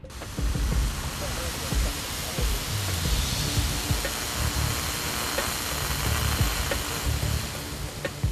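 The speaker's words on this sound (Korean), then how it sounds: "다행히 물은 정확히 분사되기 시작했다." A machine on demanding outdoor work sprays water in a loud, continuous hissing rush over a rumbling engine, steady from start to finish.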